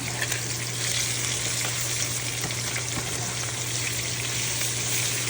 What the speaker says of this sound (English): Fish is frying over here.